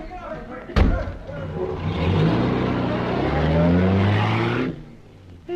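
A car engine revs up and pulls away after a sharp door slam, the motor droning loudly for several seconds before fading, staged as a radio drama sound effect.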